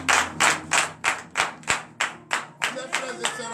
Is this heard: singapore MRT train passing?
no